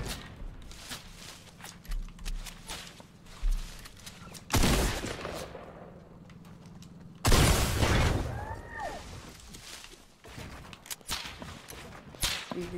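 Fortnite video game gunfire comes in scattered sharp bursts and cracks, with loud blasts and whooshing effects between quieter stretches of game sound.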